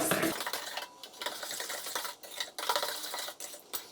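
A spoon stirs zucchini muffin batter in a mixing bowl by hand, giving a continuous close scraping and slapping with short pauses between strokes.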